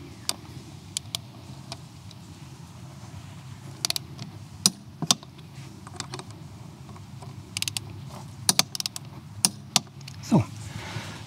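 A torque wrench on the wheel bolts of a Vespa GTS 300 tightened crosswise to 25 Nm gives sharp clicks and light creaks at close range, scattered irregularly over a faint steady background hum.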